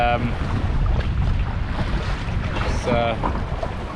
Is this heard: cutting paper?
no